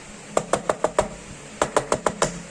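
Knocking on a door, two quick bursts of sharp wooden raps, five evenly spaced knocks, a short pause, then about five more, close and distinct with no voices.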